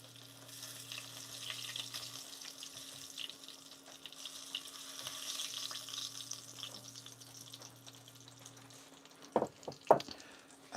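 Battered food goes into hot frying oil and sets off a steady, fairly quiet bubbling sizzle with a low hum underneath, and a couple of sharper clatters come near the end.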